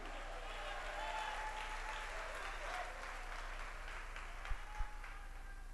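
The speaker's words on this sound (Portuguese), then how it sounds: "Vamos aplaudir o único e verdadeiro Deus" A church congregation applauding during worship, a steady broad wash of clapping that holds throughout, fairly even in level with a couple of sharper thumps near the end.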